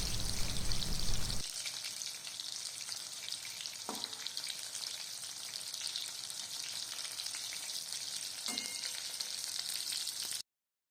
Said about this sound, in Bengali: এবার গ্যাসের ফ্লেমটা হাই করে আমি এগুলোকে ভালো করে নাড়াচাড়া করে নেব। এবার ভালো করে লাল লাল করে ভেজে এগুলো তুলে নিলেই